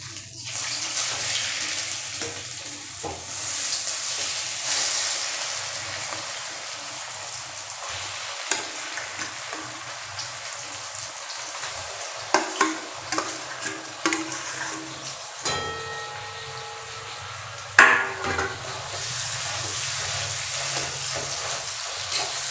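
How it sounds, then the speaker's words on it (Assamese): Mashed potato being stirred and fried in oil for Assamese aloo pitika, giving a steady soft sizzle with scraping and clattering of the spoon against the pan, fairly close and continuous with no talk. "এইটো ভালকৈ লৰাই দিব লাগিব, চ' ডেট তেলখিনি পূৰা এবজৰ্ব হৈ যায় আলুটোত।"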